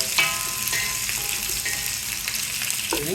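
Onions sizzle steadily as they fry in a pan, a close, continuous crackling hiss with small pops and occasional stirring clinks, alone without talk.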